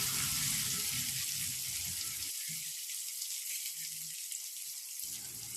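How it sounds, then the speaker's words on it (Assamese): Chopped tomatoes are stirred into partly cooked potatoes in a hot pan, a steady sizzle and frying hiss with soft scraping from the stirring. "বিলাহীখিনি দি আলুখিনিৰ সৈতে ভালকৈ মিক্স কৰি দিছোঁ"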